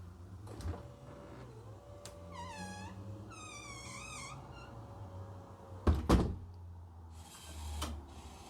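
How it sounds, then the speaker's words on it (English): A motorised smart door closes after a press on a Zemismart ZM606 Matter switch: a steady motor whine for several seconds, then a loud thud as it shuts, with quieter knocks afterward in a quiet room. "the door closes for me"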